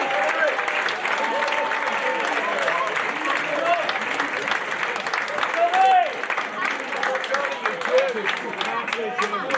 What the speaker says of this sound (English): they really do deserve a clap for everything that's been put on today.